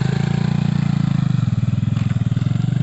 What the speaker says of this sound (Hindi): बहुत तेज भाग रही है। बहुत तेज है ये, तो बहुत हैवी बाइक है